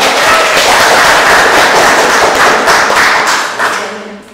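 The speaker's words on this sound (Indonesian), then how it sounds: "Kasih tepuk tangan semuanya." An audience of university students at a campus talk claps loudly and close, a dense burst of many hands that holds steady and then tapers off toward the end.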